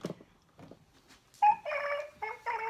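Toy llama giving off electronic chirping and squawking noises, a couple of faint blips and then a louder run of warbling tones, close and brief.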